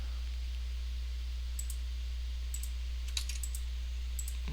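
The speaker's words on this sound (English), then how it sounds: "Oops, clicking around a lot." A computer mouse clicking and keys being typed, with a few sparse, faint clicks in short bursts over a steady low hum.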